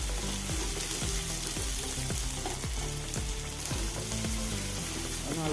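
Finely chopped onions sizzle steadily in a pan for vegetable fried rice, a close, constant frying hiss with rhythmic background music running underneath.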